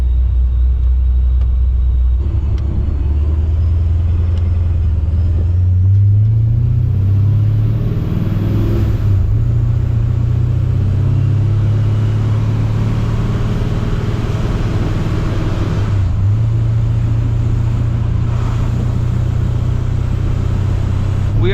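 Supercharged Pontiac GTO cruising in third gear, its engine drone a steady, loud low rumble that holds throughout with mild swells in revs, no talk over it.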